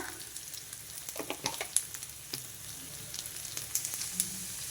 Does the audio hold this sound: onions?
yes